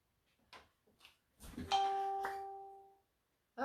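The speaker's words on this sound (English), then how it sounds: "The little bell went on" A single bright electronic chime rings out twice in quick succession and fades slowly, with faint brief sounds before it.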